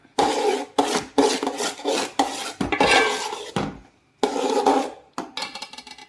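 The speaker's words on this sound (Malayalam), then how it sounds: "ഈ ഇളം ചൂടോടുകൂടി തന്നെ നമുക്ക് ഈ റവയൊന്ന് ഇളക്കി കൊടുക്കാം" Roasted semolina scraped and stirred in a warm pan, a run of close, loud rasping strokes with short pauses between them and no talking.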